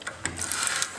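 A hand-turned tap cutting threads into metal gives a quiet, close run of short clicking and ratcheting ticks over about a second, with no talk.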